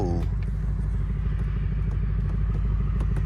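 A deep, rumbling 5.0 V8 engine in an S550 Mustang GT idles and burbles steadily through a loud exhaust with stock mufflers, close by, with a brief rising tone at the start.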